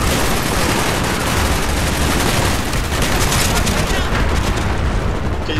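Dense, continuous gunfire with booming blasts in the shooter game Call of Duty Black Ops, a loud, unrelenting wall of overlapping shots heard close up, with someone talking over it.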